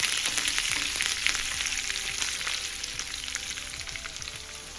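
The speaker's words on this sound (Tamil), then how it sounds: "வாசத்துக்காக 2 கொத்து கருவேப்பிலையை ஃப்ரை பண்ணி நான் அதில் சேர்த்துக்கிறேன்." Curry leaves hit hot oil and crackle in a dense, bright sizzle that eases off gradually, with a few faint stirring sounds and no talking.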